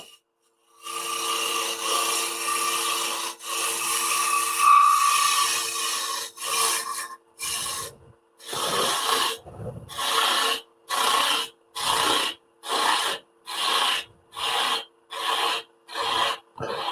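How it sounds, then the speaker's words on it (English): A woodturning tool scrapes a thin wooden snowflake bowl on a lathe, first a long continuous rasping scrape, then a steady series of short rhythmic scraping strokes, close and clear. "We'll just scrape that with a bit of backhanded force with it."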